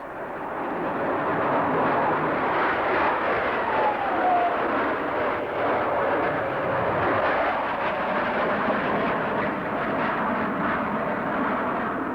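A Lockheed F-104 Starfighter jet flies past with a steady, loud, broad roaring rush that holds for the whole stretch, with no voices over it.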